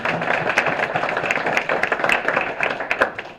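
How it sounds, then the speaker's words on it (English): Applause ripples through a city council meeting in Brownsville, Tennessee, a modest group clapping with an uneven patter of individual hands, close and fairly loud. "Let's give them a round of applause."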